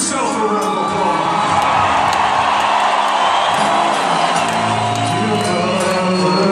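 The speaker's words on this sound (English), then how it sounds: "Give yourself a round of applause." A large rock concert crowd roars with loud, sustained cheering, whoops and shouts, dense and continuous throughout at close range, with clapping mixed into the wall of noise.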